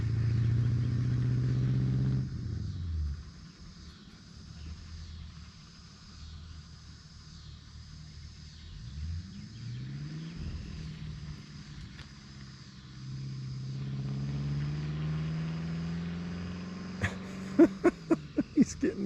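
International Harvester C110 truck fitted with Chevy parts pulling away in the distance, its engine rising and falling through successive gear changes, fading and swelling, with a few sharp clicks near the end.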